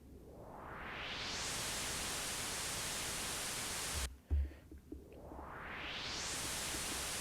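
A noisy synth sweep rises steadily upward, cuts off with a brief thump, then sweeps up again, hissy and resonant throughout.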